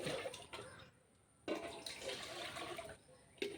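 Water poured from a vessel into a container in a garden, two bursts of splashy pouring separated by a short pause, close and moderately loud.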